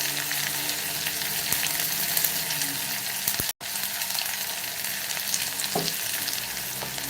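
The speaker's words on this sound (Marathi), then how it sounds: "कांद्याला चांगला परतून घ्यायचं आहे जास्त ब्राऊन असं करायचं नाही आहे" Chopped onion and green chilies sautéing in oil for aloo palak, a dense continuous sizzle close up with a few soft stirring scrapes and knocks, briefly cutting out midway, no talk.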